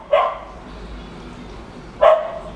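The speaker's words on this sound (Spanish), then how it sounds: "Al perro del vecino no le gusta que canten ameno." A neighbour's dog barks twice, about two seconds apart, each a sharp single woof heard from a short distance indoors, with a quiet room and no talking in between.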